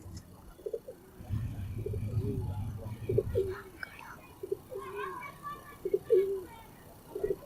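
A newly bought pigeon coos softly in low, repeated throaty phrases, with someone talking over much of it nearby.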